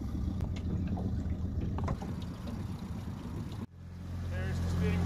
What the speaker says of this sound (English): and then we will drive the boat forward